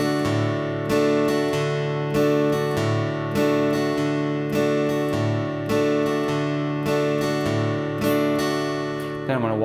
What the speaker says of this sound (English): I'm going to do a bass note strum with an alternating bass.